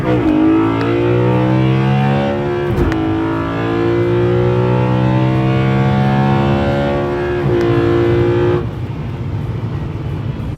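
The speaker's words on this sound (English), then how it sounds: "it improves your induction noise, makes the engine sound really good" Loud, sustained engine note from a BMW E93 M3 fitted with individual throttle bodies, rising and falling through several revs with strong induction roar and harmonic drone before easing off near the end.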